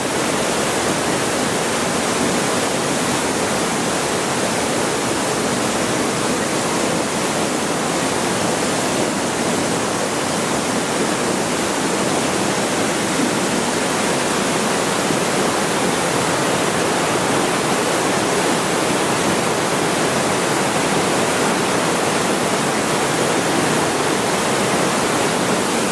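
The flooded Traun river in the Chiemgau, Bavaria, surges past as a loud, unbroken roar of rushing water, steady and close for the whole stretch with no voices.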